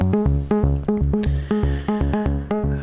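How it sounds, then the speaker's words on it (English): Raw, unprocessed Moog Subsequent 37 synthesizer plays a loud, repeating buzzy bass pattern in an even pulsing rhythm, notes stepping in pitch, heard alone. "And this is the raw sound coming out from the Subsequent 37."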